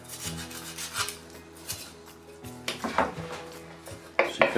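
Scraping and rasping as fins are cut from a river catfish being prepared for smoking over cherry wood, with repeated short strokes and knocks on a hard surface, close and moderately loud, with no talking.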